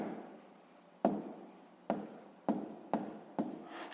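A pen scratches across paper while working a sixth-grade maths exercise, with a quiet scribble broken by five sharp tapping strokes at roughly even intervals, close and alone.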